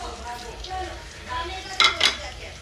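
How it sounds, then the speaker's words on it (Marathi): Semolina tipped into hot ghee in a pan for sheera, with scraping and clinking of a spoon against the pan and a soft sizzle, rising to two sharper metallic clatters near the end. "ह्याच्यात मी हा रवा टाकते"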